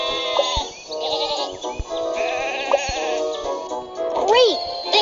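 Sheep in a Thomas and Friends video game bleat several times over a bright, tinkly game music track, the calls wavering and clear in the foreground.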